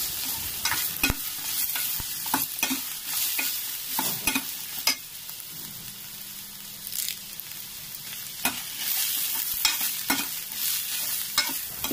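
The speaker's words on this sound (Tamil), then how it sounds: "இப்போ இதை எல்லாத்தையும் போட்டு நல்லா வதக்கிக்கலாம்." Garlic, ginger and curry leaves sauté in a hot pan, sizzling steadily throughout while a spoon repeatedly stirs and scrapes, with no talking.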